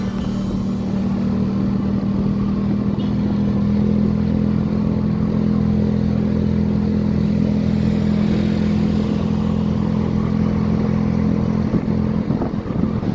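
A Yamaha Mio scooter climbs a steep rural road, its small engine holding a steady, strained drone throughout, close and continuous with no voices.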